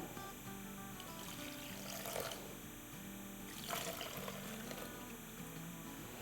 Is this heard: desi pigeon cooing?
no